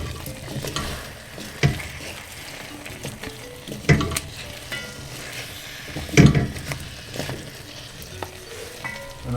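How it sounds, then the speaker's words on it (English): Indian fruity lamb neck curry sizzles in a pot while a spoon stirs it, with steady frying crackle and a few louder scrapes and knocks against the pot. "Let me give that a stir in."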